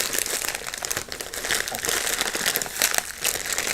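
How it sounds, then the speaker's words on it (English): Plastic bag wrapped around smoked Lapsang Souchong black tea, crinkling steadily and close up for the whole stretch with no talk over it, its bright rustle rising and falling as the bag is handled. "I actually keep it wrapped in a plastic bag inside a tin"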